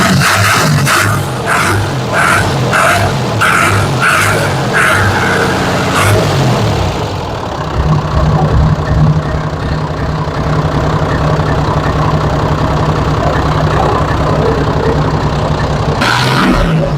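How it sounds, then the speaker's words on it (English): A John Deere 3050 tractor's diesel engine, freshly fitted with a resealed Lucas CAV DPA injection pump, runs steadily up close, with rhythmic revving bursts early on settling into a continuous even idle. "there she is running now with the throttle light"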